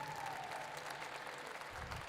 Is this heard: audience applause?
yes